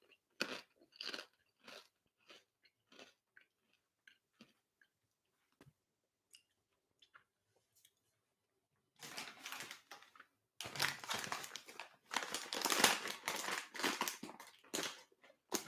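Spicy Doritos chips crunched and chewed close to the mic, with sharp isolated bites at first, then a long loud stretch of dense continuous crunching.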